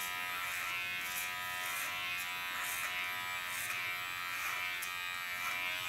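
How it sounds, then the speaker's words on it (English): A close electric hair clipper buzzes steadily and without pause during a haircut, setting the baseline for a contour line. The hum is continuous and even, with faint rhythmic ripples as the blade passes over the head, and no talk is heard. "tingling of a clipper"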